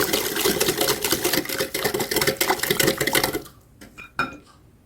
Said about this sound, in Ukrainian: Все вінчиком перемішуємо гарненько